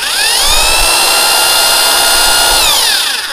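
A ZPER 800 watt electric hammer drill runs continuously at high speed, a loud close whine held steady for a few seconds before it begins to wind down.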